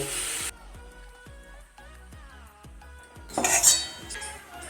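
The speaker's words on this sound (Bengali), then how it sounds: "দেখুন আলুগুলো আমার ভাজা হয়ে গেছে। এইরকম ভাজাতেই আমি তুলে নেব।" Fried potato pieces are lifted from a pan with a metal utensil, giving a series of sharp clinks and taps against the cookware, then a brief louder scrape and rattle at the end.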